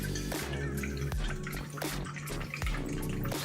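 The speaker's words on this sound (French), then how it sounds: "On ajoute le vinaigre de vin blanc." White wine vinegar is poured into a salmon salad, giving a close liquid splash and trickle with a few clattering knocks of utensils or a bowl.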